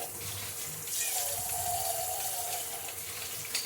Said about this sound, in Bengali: এবার এইভাবে জল ঝরতে রেখে দেবো সিঙ্কের মধ্যে।